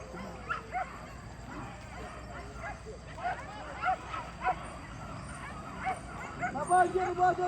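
A dog yips and barks in short bursts close by, with whimpering mixed in, while people talk over it.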